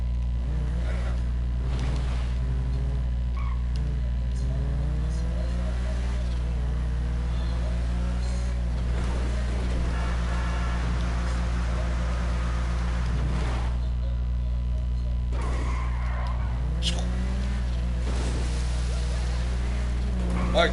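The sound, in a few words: boat engine while driving in GTA Online video game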